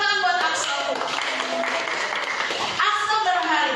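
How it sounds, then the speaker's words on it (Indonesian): Children at a church kids' service clap together in a burst of brisk applause lasting a couple of seconds, framed by an adult speaking before and after. "beri tepuk tangan buat Axel"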